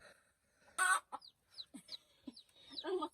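Newly hatched native chicken chicks give short, high peeps in an irregular series, close by and fairly soft, with a brief rustling burst near the start and a busier cluster of calls at the end.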